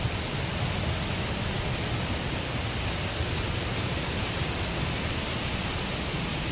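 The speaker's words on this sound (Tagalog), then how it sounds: "Malakas yung pagbagsak ng tubig." Hulugan Falls in Bulusan, Sorsogon pours down hard, a broad, unbroken roar of falling water heard up close, steady and loud from start to finish with no voices.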